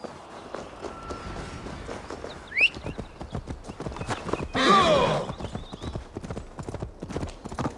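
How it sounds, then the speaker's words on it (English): A horse gallops in Assassin's Creed Valhalla, a steady rapid clip-clop of hooves running throughout, with a brief whinny and a short burst of rushing noise midway. "Come on, horsey, let's go."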